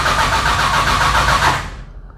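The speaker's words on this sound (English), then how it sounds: "Now let's see what happens when we crank." A car engine fitted with a FiTech fuel injection system cranks over in a steady, loud, rhythmic churn for about a second and a half, then cuts off abruptly. The starting problem leaves it without power while cranking.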